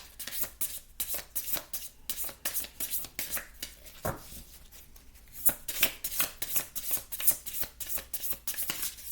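Tarot cards are shuffled and drawn by hand close up, making quick papery riffles, slaps and flicks in an uneven rhythm. The sound is soft overall, with livelier bursts of shuffling toward the end.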